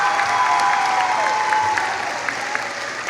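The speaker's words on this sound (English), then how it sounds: "Can we give one more round of applause for all of our award and scholarship winners?" A crowd at a school graduation ceremony claps steadily throughout, dense and continuous, easing slightly toward the end, with a thin whistle-like tone early on.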